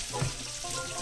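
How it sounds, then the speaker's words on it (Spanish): Bacon sizzling and frying in a lightly oiled pan while it is stirred now and then for scrambled eggs, a steady close crackle with a soft scrape near the start and no talk. "Moviendo de vez en cuando para que no se nos pegue"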